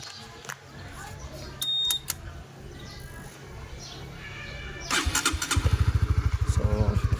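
A Honda Winner X 150 motorcycle, freshly given an oil change, cranks and catches near the end, then settles into a steady, rapid idle that throbs close and loud after quieter handling noises.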